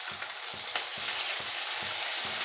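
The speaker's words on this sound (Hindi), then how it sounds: "तो देखिए मैं डाल रही हूँ अदरक लहसुन का पेस्ट।" Ginger garlic paste sizzling in a hot pan during home cooking of methi matar malai, a bright steady hiss with rhythmic stirring scrapes repeating about every half second, close by.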